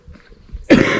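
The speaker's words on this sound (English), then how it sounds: "Excuse me, coughing." A single sharp cough, close and loud, following a short stretch of quiet background.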